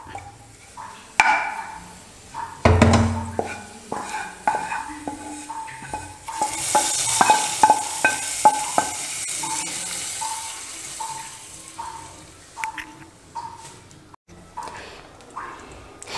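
A fried onion tempering is stirred in a pan and poured into a bitter gourd curry with roasted coconut, bringing repeated metallic scrapes and clinks, a crackling sizzle, and a rushing splash partway through.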